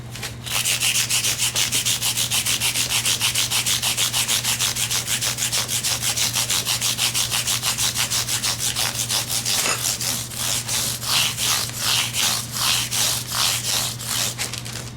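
Fine 1200-grit sandpaper rubbed by hand over the clear coat of a guitar neck, a loud, close, rhythmic rasp of quick even strokes over a low steady hum.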